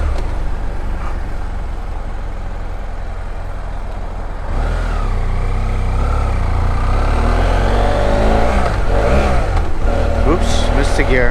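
Car engine under load with a missed gear shift: a loud, continuous engine drone that rises in pitch as revs climb through the last several seconds, with talking over it.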